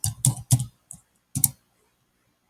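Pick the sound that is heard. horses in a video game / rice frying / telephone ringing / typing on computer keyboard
typing on computer keyboard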